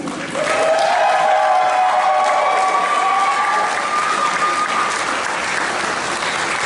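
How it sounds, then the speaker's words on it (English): A convention audience breaks into loud, sustained applause, a dense wash of many hands clapping at once with a few faint cheers mixed in, lasting several seconds before easing slightly. "And even louder round of applause for our guests who come here without appearance fee"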